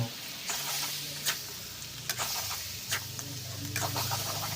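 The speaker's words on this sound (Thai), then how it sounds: "เอากบที่เราสับไปชิ้นนะครับผม ที่เราสับเป็นท่อนๆเอามาผัด เอามาคั่วกับพริกแกงนะครับผม" Chopped frog pieces stir-fried with homemade curry paste in a pan for a northern Thai frog curry, giving a steady close sizzle broken by several sharp scraping stirs of the spatula.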